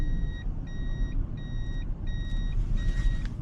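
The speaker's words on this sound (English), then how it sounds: "I can show you the sonar sensors," Parking sonar sensors on a Toyota Granvia Q 3.4 V6 4WD minivan beep as the rear nears a wall: a steady train of evenly spaced electronic beeps over a low engine hum, with no talking.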